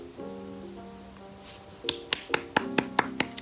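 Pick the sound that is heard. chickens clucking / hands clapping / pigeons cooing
hands clapping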